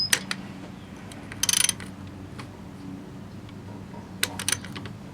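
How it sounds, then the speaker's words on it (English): A ratchet turns a socket on a seized shaft of a 1970 Honda CT70. A few short bursts of rapid clicking ring out, with quiet pauses and faint taps between them. "I just want to see what happens if I put the ratchet on this socket here."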